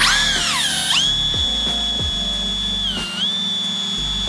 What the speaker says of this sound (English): I'm gonna throw this in my drill chuck, spin it around, and just hold the Scotch-Brite pad on it